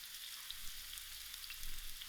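Onions frying in a pan while cooking a cauliflower and butter bean dish, giving a steady, soft sizzle throughout with faint crackles, heard alone at close range.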